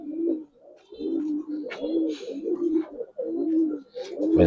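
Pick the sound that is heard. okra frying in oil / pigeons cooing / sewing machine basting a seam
pigeons cooing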